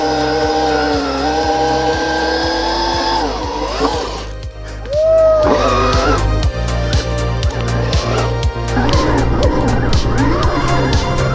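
An Extreme Wheel ES 100-volt electric bike doing a tire burnout, its loud, close tire squeal and skidding screech layered over a steady pulsing motor drone for the whole stretch.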